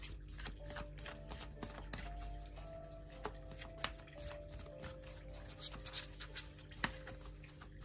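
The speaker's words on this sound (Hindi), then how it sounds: "मैं कार्ड्स को शफल कर लेती हूँ" Tarot cards being shuffled by hand close up, a soft run of papery riffling and tapping with scattered sharper clicks, alone and fairly quiet against a faint steady background hum.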